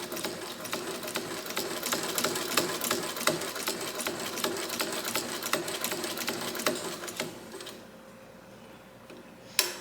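A Florence White rotary sewing machine stitching with a lengthened stitch: rapid, even mechanical whirring and ticking close by, which stops near the end and leaves a faint hum, followed by one brief click.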